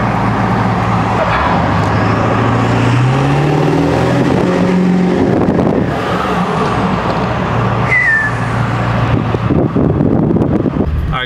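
A 7.3L Powerstroke diesel pickup with a 10-inch exhaust accelerates hard from a green light with the windows down, its engine drone rising steadily under wind noise, a turbo whistle sweeping upward midway.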